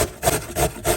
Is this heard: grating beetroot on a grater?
yes